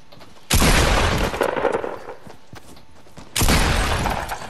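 Sniper rifle shots in a solo video game match: two loud, sharp blasts a few seconds apart, each with a booming tail that rings on for over a second, with no voice.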